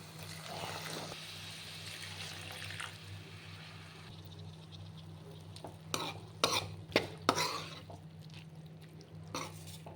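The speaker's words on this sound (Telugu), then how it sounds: "నేను ఒక కొంచెం వాటర్ యాడ్ చేసుకుంటున్నాను గ్రేవీగా రైస్లో కలపడం కోసం" A spoon stirs mint egg bhurji in a pan after water has been added. A low sizzle and bubbling run underneath, with a few sharp scraping clinks near the end over a steady background hum.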